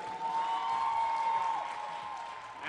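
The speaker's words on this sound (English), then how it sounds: "one final round of applause for the full slate of ladies" Faint applause from an audience honoring the contestants at the Miss Black US Ambassador 2017 crowning, a soft steady patter with a sustained tone running underneath.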